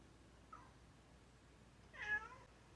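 A pet cat at home gives a faint short chirp, then a clearer, louder meow about a second later, close by in a quiet room.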